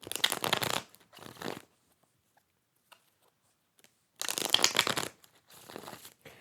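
Tarot cards are riffled and shuffled in two pairs of crisp, rustling bursts, close and fairly quiet, separated by a few seconds of silence.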